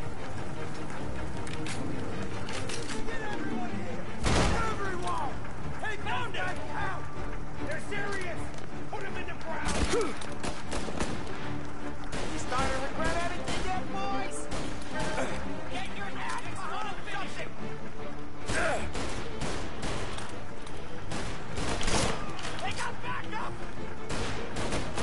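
Rifle shots crack out sharply now and then in a Mafia gunfight, over a steady bed of game noise and ambience. A voice talks through parts of the sequence.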